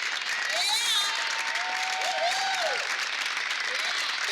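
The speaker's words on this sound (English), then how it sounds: "just give them a big round of applause" A round of applause for community center staff and volunteers at a campaign launch event, moderate and steady clapping from a gathered crowd with faint voices and tones mixed underneath.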